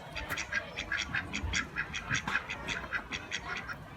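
Ducks quack in a rapid repeating series, a busy chorus of nasal calls at moderate distance over outdoor background noise, with no talking.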